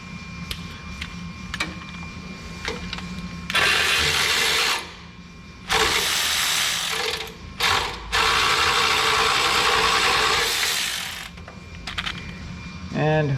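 A ratchet wrench works an oil pan bolt on a Chevy V8, giving long bursts of rapid, loud clicking up close, separated by brief pauses and a few scattered single clicks.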